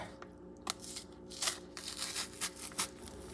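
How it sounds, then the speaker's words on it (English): A green plantain is peeled by hand after being scored, giving several short crisp tearing and crackling bursts of skin pulling away, close and fairly quiet over a faint steady background hum. "Peel it."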